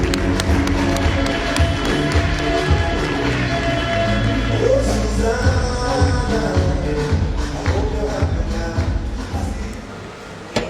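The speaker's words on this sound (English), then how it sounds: "Give him a round of applause." Steady, loud applause from a crowd at a public event welcoming an MP, with sharp claps sustained throughout and a few thuds, fading slightly at the very end.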